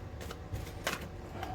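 Tarot cards shuffled quickly by hand, not riffled: a brief, close run of soft papery slides and flicks, with no talk.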